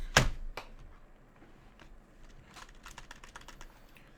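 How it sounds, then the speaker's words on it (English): A computer keyboard on a desk is typed on after one sharp knock, with short bursts of quick key clicks, close and fairly quiet, and no talking. "Grab my keyboard."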